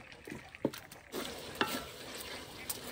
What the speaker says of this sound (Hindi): अदरक और लहसुन की भी अच्छी तरह बुनाई करेंगे